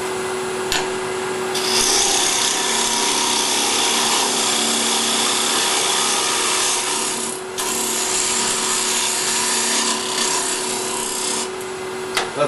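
Wood lathe spinning at about 2,000 RPM while a square carbide-insert rougher shapes a bowl's outside curve: continuous close scraping and rasping of wood, broken by a few brief pauses, with no talking.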